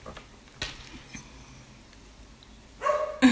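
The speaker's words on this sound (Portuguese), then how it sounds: "tá muito alto o barulho dos cachorros, vocês estão ouvindo aí?" Dogs barking outside a house during a live stream: a few scattered, fairly faint barks and yips in the background, with a louder burst near the end.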